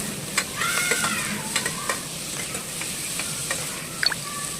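Tomatoes and spices for mutton sambar sizzle close by as a spatula stirs them, with repeated scraping strokes and a few squeaky rasps over a constant frying hiss.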